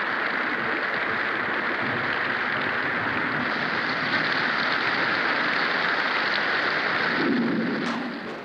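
Steady, dense rainfall pours down continuously as a loud, even hiss throughout, with a brief low rumble near the end.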